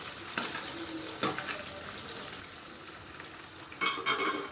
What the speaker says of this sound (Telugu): ఒక పది నుంచి పదిహేను నిమిషాలు ఫ్రై చేసుకోవాలండి మీడియం ఫ్లేమ్లో పెట్టి